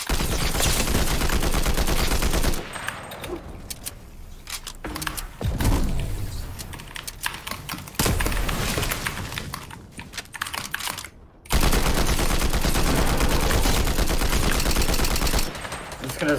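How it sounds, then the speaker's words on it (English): Rapid bursts of rocket-launching gunfire in Fortnite, loud and dense, coming in several long stretches separated by brief quieter gaps, with game noise throughout. "It shoots rockets up after the first shot, so you just gotta hold down while you're shooting it"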